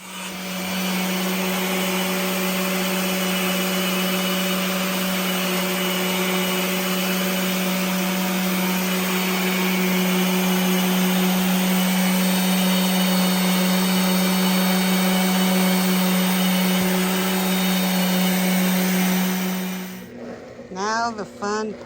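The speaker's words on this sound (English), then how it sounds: "So she's going to sand it down and polish it for me" A power sander or polisher whirs steadily and loudly while resurfacing a scratched table and countertop inside an RV, a constant droning hum that cuts off near the end, leaving brief clatter.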